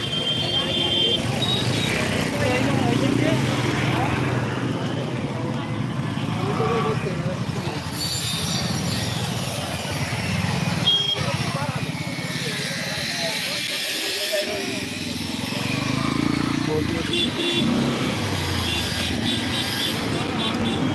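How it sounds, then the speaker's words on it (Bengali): A motorcycle rally passes at a crowded political gathering, a steady loud rumble and hiss of many engines blended with crowd noise, while a voice talks over it. "একেবারেই দেখতে পাচ্ছেন বাইক র্যালি সরাসরি আপনাদের দেখানোর চেষ্টা করছি"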